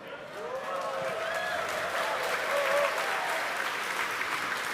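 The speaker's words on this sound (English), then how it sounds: "The crowd here reacting to that call out" A crowd watching the Starship Flight 12 launch cheers and applauds steadily as the vehicle heads for a landing in the Indian Ocean, with dense, sustained clapping and shouts that swell slightly midway, while an announcer's voice carries over the top.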